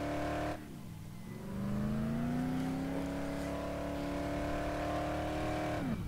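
A car driving in the game Dead Island: Definitive Edition, its engine dropping briefly and then climbing into a steady, loud droning whine that holds before easing off at the end.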